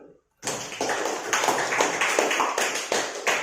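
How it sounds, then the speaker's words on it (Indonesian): A classroom group clapping on cue during a Catholic religious education lesson: a burst of hand claps starting abruptly after a short silence, fairly close, with rhythmic pulses and some voices mixed in. "tepuk tangan dulu"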